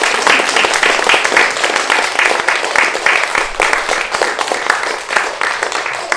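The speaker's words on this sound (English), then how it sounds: "I think we all should give a round of applause to Bernard and Gillian for doing this." Warm applause from guests at an autumn publishing reception, dense and steady clapping with a pulsing texture that carries throughout the passage and tapers slightly near the end.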